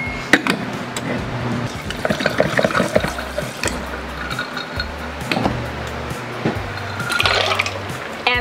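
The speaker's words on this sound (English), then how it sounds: "I just add a little bit of ice, then I fill with water so that it makes the cup mark." Tap water poured over ice cubes into a one-cup measuring cup for home-brewed kombucha, a steady close splashing fill with irregular clinks and pitch-rising gurgle, no talking.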